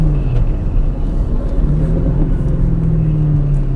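A 2003 Ford Mustang Mach 1 with a 4.6 V8 and 5-speed manual downshifts on a test drive, a loud continuous engine drone with shifting tone heard from inside the car.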